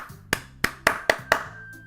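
Short burst of applause in the video game Doki Doki Literature Club: five sharp, evenly spaced claps over about a second and a half, alone with no talk.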